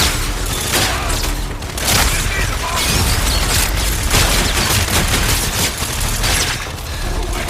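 Loud, continuous gunfire and booming blasts from a shooter video game, rapid bursts layered with explosions and mechanical clatter, with a voice faintly mixed in.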